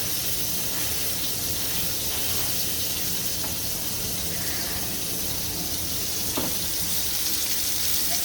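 Burgers pressed in a hot pan give off a steady, loud sizzle and hiss of frying that continues unbroken.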